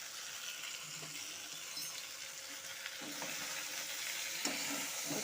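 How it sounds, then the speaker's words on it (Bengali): Taro stolons frying with ground turmeric, cumin, coriander and chilli powder, a soft steady sizzle rising slightly partway through, with occasional quiet stirring scrapes; no voices. "এখন আমি সমস্ত গুঁড়ো মশলার সাথে লতিটাকে ভালো মতো মিশিয়ে নেব"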